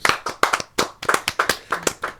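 Hands clap for guests in a podcast studio in a short, lively burst of sharp, close claps with an uneven rhythm and no talk.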